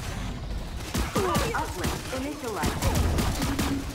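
Rapid gunfire in the shooter Lawbreakers, bursts of shots striking the player's large Titan character, dense and close alongside short impact noises and some speech.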